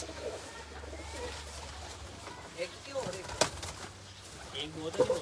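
Teddy pigeons coo softly from a loft of birds for sale, with occasional wing flutters, beneath people talking nearby.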